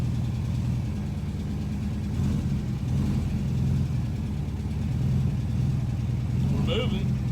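A 1964 Volkswagen Beetle's engine drones steadily and close during a drive, a low rumbling hum that swells slightly at times without a clear rev.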